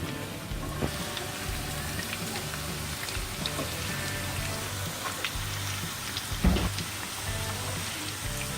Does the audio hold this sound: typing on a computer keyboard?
no